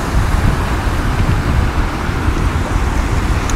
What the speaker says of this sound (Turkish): Dedim madem hava o kadar rüzgarlı, fena esiyor